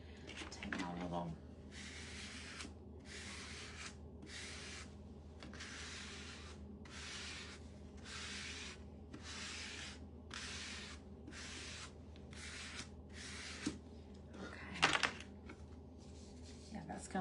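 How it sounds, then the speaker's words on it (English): Small handheld power sander buffing the edges of layered paper for a Christmas bouquet, running in about a dozen steady bursts with brief pauses between them, close and fairly loud, with some handling noise and a faint voice underneath. "Now I'm gonna use my little sander and I'm gonna sand the edges."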